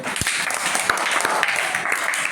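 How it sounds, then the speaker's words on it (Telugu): A classroom of children claps for the winning team B in a Telugu letter-and-word game, scattered, uneven applause with sharp individual claps, while a voice talks over it. "బి చప్పట్లు కొట్టండి అందరూ"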